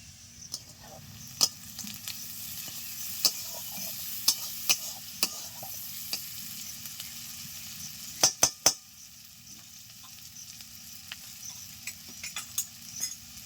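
Onions frying over medium heat while being stirred in a pan, a low continuous sizzle broken by scattered sharp clinks and scrapes of a utensil against the pan, with a quick cluster of knocks near the middle.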